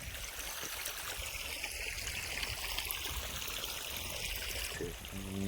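Irrigation water flows into a village farm field in a steady, rushing stream, a continuous even wash of sound with no voices.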